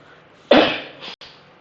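A single harsh cough bursts out close by, trailing off with a brief second rasp after a short gap.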